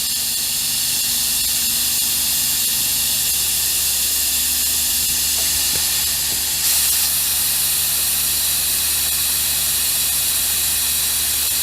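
Custom hot rod chassis on air suspension lowering itself, a loud continuous air hiss running steadily throughout without talk.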